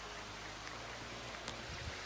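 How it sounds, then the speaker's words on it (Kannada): Rain falls in the fog-covered hills around Ooty, a faint, steady patter with a few distinct drops, quiet and continuous throughout. "ಇದು ಯಪ್ಪೋ ಮಳೆ ಬಂತಪ್ಪ"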